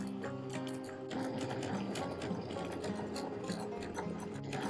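A sewing machine stitches a small fabric vest, running in a steady, close, loud mechanical rattle with a brief pause and restart in the middle, no talking.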